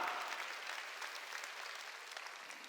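A church congregation claps together at a Wednesday worship service, a steady wash of many hands sustained throughout with no voices standing out.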